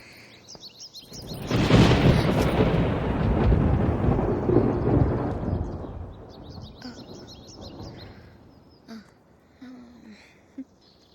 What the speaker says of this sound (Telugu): ఏంటి ఓ ఉరుముతున్నావు? నాకేమైనా భయం అనుకున్నావా?